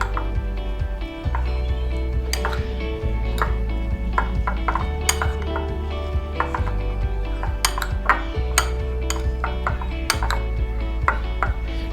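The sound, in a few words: mixing chopped capsicum in a bowl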